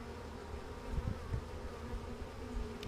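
Honey bees pour out of a hive in a steady, dense buzzing drone, fairly faint and continuous, with a few louder individual bees passing close.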